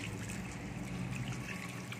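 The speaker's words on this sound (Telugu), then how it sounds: "కొద్దిగా వాటర్ వేద్దాం" A little water poured into a pot of simmering fish curry makes a steady, quiet trickle lasting about two seconds, with no talking.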